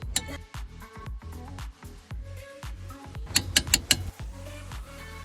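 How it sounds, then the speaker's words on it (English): A torque wrench ratchets repeatedly on the 17mm front caliper bracket bolts of a 1999–2000 Honda Civic Si, making rapid mechanical clicks in short bursts, with a few sharper metallic clicks midway. No one speaks. "Torque the two 17mm caliper bracket bolts to 80 foot-pounds."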